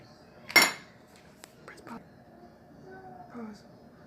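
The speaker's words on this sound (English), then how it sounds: "Let's mix this in now with the butter." A spoon knocks once, loudly, against a pot while butter is stirred into hot rice pudding (arroz con leche). Softer scraping and clinking follow, with quiet talk in the background.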